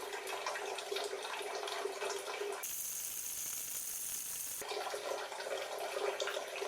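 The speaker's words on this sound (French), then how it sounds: "De l'eau s'évacue dans l'évier." Water running into a container and draining away into a sink, a steady close splashing rush that shifts to a thinner, hissing pour for a couple of seconds before the fuller flow returns, with no talking.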